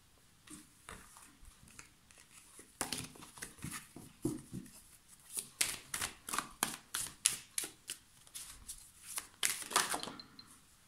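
Tarot cards being shuffled for a card reading, a series of quiet, rapid riffling flicks and soft taps close by, coming in repeated bursts.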